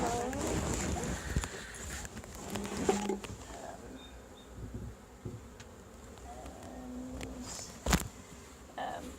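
Honeybees fanning at a hive entrance make a faint, continuous buzzing drone, with occasional soft knocks and rustles nearby.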